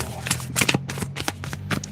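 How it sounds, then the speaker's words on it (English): Tarot cards shuffled by hand in quick riffling bursts, a steady run of soft papery flutters close by with a low hum underneath. "I'll keep shuffling."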